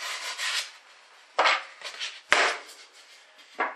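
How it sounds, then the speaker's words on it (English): A knife scrapes and rasps through a stiff material in several harsh strokes, with sharp screeching bursts between softer rubbing passes. "the sound of the knife going through it sounds a lot like fingernails on a blackboard"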